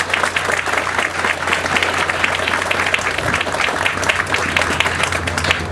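A crowd applauds a departing governor at the rededication ceremony for the Murray Morgan Bridge, with dense, steady clapping that holds at full strength for about six seconds without a break.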